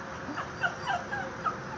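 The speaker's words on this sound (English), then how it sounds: "This dog wants to get up." A Chihuahua terrier mix dog whimpers and whines in thin, high repeated cries while begging to go out for a walk, close by over a steady background hiss.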